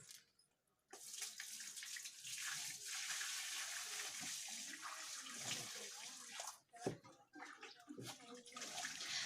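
Water gushes steadily from a container onto small young flower plants, a continuous splashing pour with a short break before it resumes, fairly faint overall.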